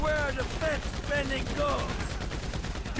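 Rapid machine gun bursts from GTA 5 rattle repeatedly at fairly close range, mixed with other game effects, while someone talks over the firing.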